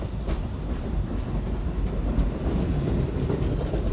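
A train running on rails toward St. George, a steady close rumble with faint clickety-clack and some wind noise on the microphone.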